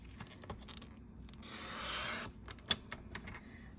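A paper trimmer blade slides across cardstock in one smooth rasping cut lasting under a second, set among quiet taps and a sharp click of handling.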